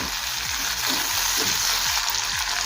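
Chopped tomato and salt hit hot oil in a frying pan for Bengali rui posto, giving a steady, loud sizzle with a few soft stirring scrapes and no voices.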